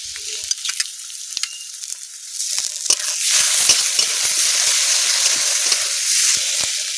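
A ginger, garlic and green chilli paste fries with chopped onions and chillies in hot oil, a steady close sizzle swelling louder after a few spatula scrapes and knocks.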